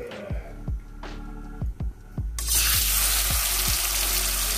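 Marinated pigeon meat hits hot oil and bursts into a loud, continuous sizzle that fills the rest of the moment, preceded by a few faint rhythmic clicks and a low hum.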